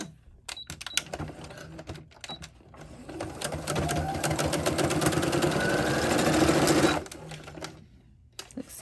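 Sewing machine stitching taut mesh fabric for a halter dress, starting with short stop-start bursts and then running in a steady, close, rapid whir for several seconds before stopping.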